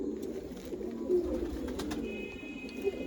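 A female pigeon at a pigeon sale and show coos softly in low rounded, repeated calls, close by against a quiet hum of background noise.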